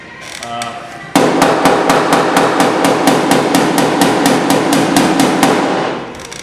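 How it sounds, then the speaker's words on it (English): Loud, close metallic clacks from a slide hammer working Camaro body metal, struck in a fast steady rhythm for several seconds before stopping. "That little slide hammer works good for this right here."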